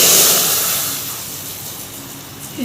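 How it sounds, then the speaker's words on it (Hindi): Cumin seeds tempered in hot oil for an Indian tadka give a loud, steady hissing sizzle that is strongest at the start and eases slightly, heard close up with no talking. "इसमें तड़का लगाऊंगी"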